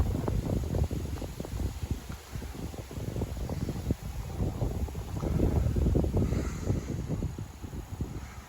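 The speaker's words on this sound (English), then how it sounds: "Because it's very windy today," Strong outdoor wind gusts buffet the microphone in a steady, rumbling roar during a windy day of car window cleaning, rising and falling without pause throughout.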